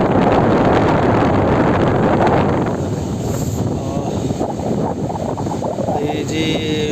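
Sea waves wash against the shore at Dapoli at sunset, a steady broadband roar buffeted by wind on the microphone, easing slightly after the first few seconds, with no talking.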